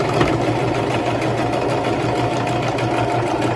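A sewing machine back tacks along the start of a thick seam, its motor whirring steadily and continuously with a close, even mechanical hum throughout.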